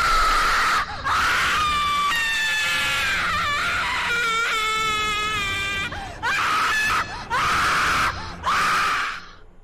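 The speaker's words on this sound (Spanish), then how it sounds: "ese grito de la primera vez casi me agarro un infarto" Shrill, piercing screams from a Teletubbies horror video game, loud and close, rising and falling through several long wails and then breaking into a few short, sharp bursts near the end.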